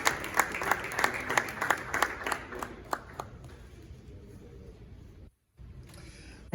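Crowd applause greets Ghana's President John Dramani Mahama as he takes his seat at a formal Czech-Ghana event, dense clapping that thins out and fades to near quiet after a few seconds.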